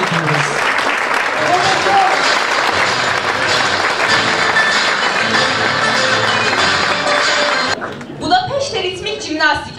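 Audience applause at a high school graduation ceremony, loud and sustained for about eight seconds from a large crowd, then fading as a voice speaks over the last moments.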